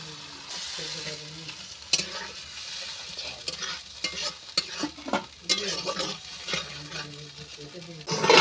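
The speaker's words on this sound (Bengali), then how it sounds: "ঢাকনা তুলে নিয়ে মশলাটা ভালো করে কষিয়ে নেব এবার আমি এরকম নেড়ে চেড়ে" Chana masala spices being stirred and fried in a pan with a little water, a low sizzle broken by irregular scraping and clattering strokes of a spatula, close and uneven, with no talk.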